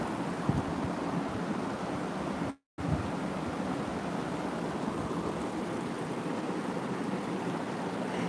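Flowing creek water in middle Tennessee, a steady broadband rush heard close and alone, continuous apart from a brief dropout partway through.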